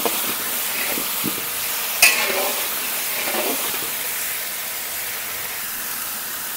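Five-spice and dried chillies sizzle in hot oil for khichuri, a steady frying hiss with a sharp crackle and a few stirring clinks near the start. No one talks.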